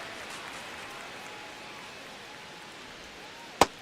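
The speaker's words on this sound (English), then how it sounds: "crowd getting settled here at Dodger Stadium" Stadium crowd murmur at Dodger Stadium in the baseball video game MLB The Show 26, a low, steady wash of distant voices ending in one sharp, loud crack.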